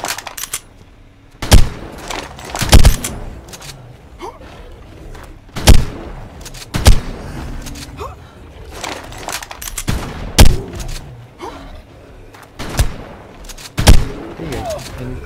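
Shotgun fire in ARK: Mobile during a dungeon fight, a series of sharp, loud blasts spaced irregularly over rumbling game background, with someone talking intermittently between shots.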